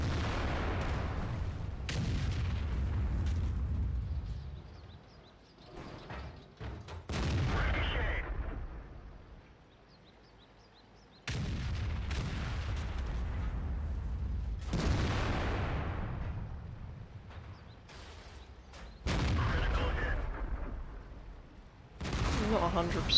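Artillery fire in a tank video game, heavy booming blasts arriving every few seconds, each with a long rumbling decay, several shots in a row with short quiet gaps between them.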